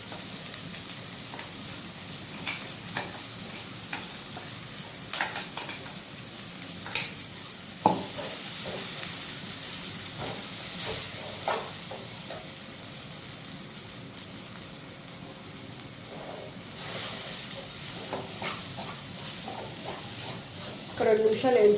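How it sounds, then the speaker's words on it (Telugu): A paste of coarsely ground peanuts, green chillies and salt fries in a pan with a steady close sizzle. Scattered scraping and clacking stir strokes cut in throughout. "తుక్కు శనగకాయ పప్పులు, పచ్చిమిరపకాయలు, సాల్ట్ ఇవి వచ్చి దీంట్లో ఫ్రై చేసేసుకోవాలి"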